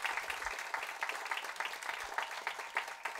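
Studio audience at a radio station applauding, a steady patter of many hands clapping at moderate volume, fairly close, with no talking.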